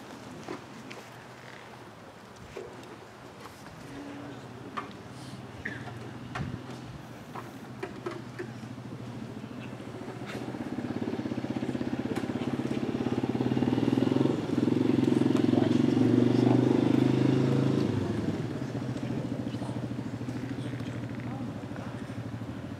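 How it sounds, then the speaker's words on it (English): A motorcycle engine passes outside, rising from a low idle to a loud, steady roar around the middle, then easing back into a quieter background hum. "we're waiting for the motorcycle to calm down"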